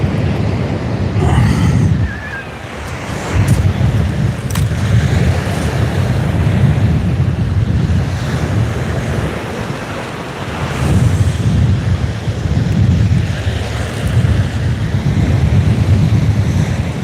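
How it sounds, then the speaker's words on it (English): Strong wind blows across open sea during kayak fishing, roaring and buffeting the microphone in loud, rumbling gusts with the hiss of surf beneath, swelling and easing in waves over the whole stretch with no talk. "Wind's picking up."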